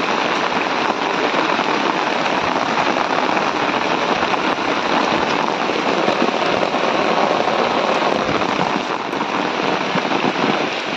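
Steady, loud rain pours down without a break while people walk under umbrellas through narrow lanes, a dense hiss of drops on surfaces lasting throughout with no talking.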